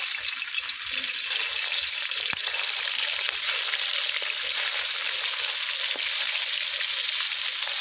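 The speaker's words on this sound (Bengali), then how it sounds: "মধ্যে আমি সর্ষের তেল দিয়ে দিয়েছি আর তেলটা খুব ভালো করে গরম করে নেব গরম হয়ে গেছে এবারে মাছগুলো দিয়ে দেবো" Magur catfish pieces frying in hot mustard oil give a constant, dense hissing sizzle that holds at an even level throughout, with a couple of faint clicks and no voices.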